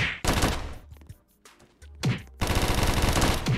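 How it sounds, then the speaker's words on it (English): Rapid automatic gunfire from the Roblox game Da Hood crackles in loud bursts with short pauses between volleys, with no talking over it. "I'm gonna shoot back."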